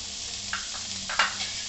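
Cauliflower stalks frying in oil with a pinch of salt, a steady close sizzle with a few brief stirring scrapes, no voices.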